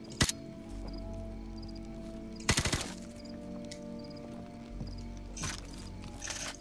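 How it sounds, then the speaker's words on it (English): Gunfire in Call of Duty Modern Warfare Remastered as the player shoots into an enemy position, short sharp bursts separated by pauses over a low steady game background. "They didn't notice me shooting into their place?"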